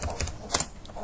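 A few keystrokes on a computer keyboard while entering a Hadoop command, sparse clicks close by with a faint bit of background.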